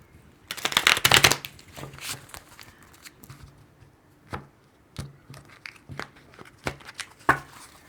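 Tarot cards are shuffled by hand in a quiet room, a burst of riffling at the start followed by soft, scattered taps and slides as the deck is handled and cut, close and fairly faint.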